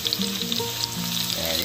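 Food sizzles steadily in a pan while a dish with onion leaves cooks in a provincial kitchen, a continuous close frying hiss filling the short moment without speech.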